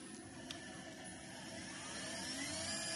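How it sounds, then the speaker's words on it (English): A Shinegle 384 V, 120 kW (50 kW rated) electric vehicle motor for buses and trucks runs on a test setup, giving a steady whine whose tones slowly climb, with no speech. "You can hear the motor is running."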